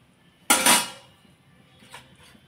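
Banana flower dropped into a kadai with water lands in one sharp metallic clatter, followed by a short scraping rattle and a couple of faint knocks of the pan before it falls quiet.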